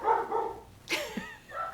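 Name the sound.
dogs barking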